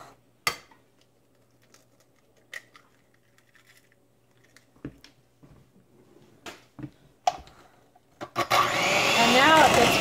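An electric hand mixer beating an egg into dairy-free chocolate chip cookie dough roars in loud and steady near the end, after a stretch of quiet with scattered taps and clinks.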